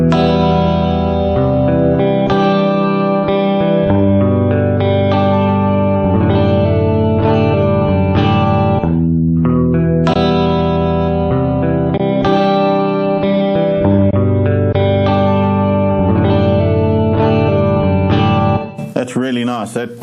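An electric guitar plays chords and melodic lines through reverb programmed on a Boss GT-1000 pedal, loud and continuous, with each note ringing out in a washy tail before the playing stops abruptly at the end.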